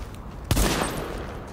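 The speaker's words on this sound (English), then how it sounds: "You can shoot out tires." Dense automatic gunfire shooting at car tires in The Division video game, a sudden loud onset followed by a sustained rattling barrage with no speech.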